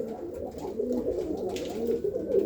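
Racing pigeons at a pigeon racing convention, a steady murmur of soft, low cooing from several birds, continuous and fairly close with no other sounds on top.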